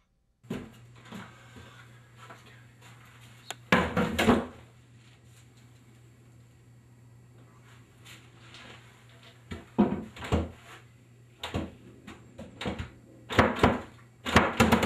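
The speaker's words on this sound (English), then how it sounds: "Door's jammed!" A stuck, jammed door being forced open, heard as repeated loud thumps and rattling bangs in bursts, with a steady low hum underneath between the impacts.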